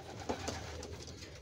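Soft racing pigeon cooing under a steady wash of background noise, with a few low murmuring calls spread across a brief moment.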